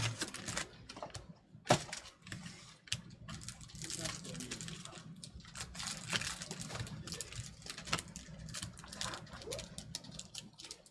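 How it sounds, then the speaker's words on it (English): Computer keyboard typing clatters in quick irregular bursts, fairly close and moderately loud, mixed with faint room noise and a brief sharp click near the start. "What are you typing, boy?"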